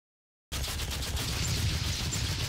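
A shotgun with unlimited ammo fires nonstop in the video game DOOM, making a dense, continuous barrage of loud blasts that starts abruptly after a brief silence.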